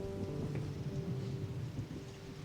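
Steady heavy rain with a deep, continuous rumble of thunder underneath, loud and unbroken throughout.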